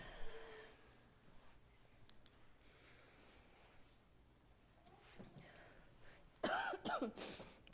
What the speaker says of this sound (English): Excuse me if I'm coughing a lot.